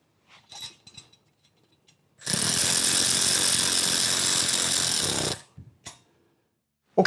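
Barrel bolts fastened over a spark plug wire shield with a power tool, which makes a loud, steady buzzing whir for about three seconds between a few quiet clicks and handling noises.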